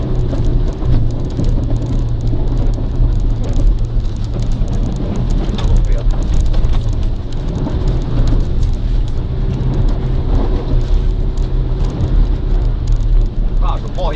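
An Iveco Daily van driven at full throttle over a rough tank test track gives a loud, steady engine drone with heavy rattling and thumping, while people talk over the noise.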